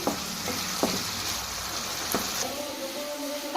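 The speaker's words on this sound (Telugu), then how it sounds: "పచ్చి వాసన పోయేంత వరకు అయితే శనగపాయ అల్లం పేస్ట్ అయితే బాగా ఫ్రై చేసుకోవాలండి" Ginger and green chilli paste frying in hot oil in a pan for beef pickle, a steady close sizzle with a few sharp spatters and a spoon scraping now and then, no voices.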